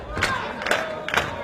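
A wrestling arena crowd cheers for Abyss in three swelling roars, each rising and falling about half a second apart, moderately loud and distant in a large hall.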